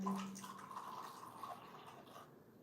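Excess hot water poured off a brimming Liubao dark tea brewing vessel onto a bamboo basket tea table, a thin, steady trickle and splash lasting a couple of seconds, close and soft, with no talking.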